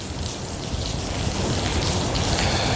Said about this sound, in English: we just got our first downpour the entire morning here down in the French Quarter